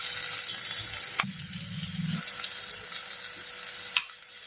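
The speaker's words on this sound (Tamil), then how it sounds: "இப்போ இதெல்லாம் ஒன்று சேர நல்லா மிக்ஸ் பண்ணிக்கலாங்க." Curry masala gravy with onion, tomato and salt is stirred in a hot pan, giving a constant sizzle and frying hiss with intermittent scraping and clinks of the spoon. No one speaks.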